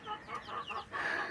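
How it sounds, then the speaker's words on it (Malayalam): Two-day-old chicks, part of a batch of twenty, peep softly in a quick run of high, thin chirps, faint and close with no talking. "ഇതാണ് കോഴിക്കുഞ്ഞുങ്ങൾ. 2 ദിവസമായുള്ളൂ വാങ്ങിച്ചിട്ട്."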